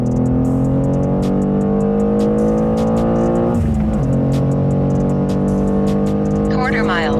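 BMW M2 with an S58 engine accelerating hard on a performance run, a loud rising engine note that dips at a gear change and climbs again, with speech over it.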